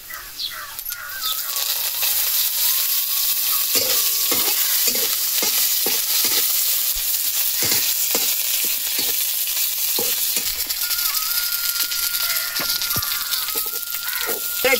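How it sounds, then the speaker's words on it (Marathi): Cumin, mustard seeds and coriander sizzle loudly and steadily in hot oil, with repeated sharp pops and taps of a spoon stirring the pan close by. "जिरे टाकीते, मोहरी टाकीते, आता कोथिंबीर टाकीते।"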